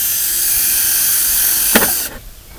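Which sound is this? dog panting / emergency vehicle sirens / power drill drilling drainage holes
power drill drilling drainage holes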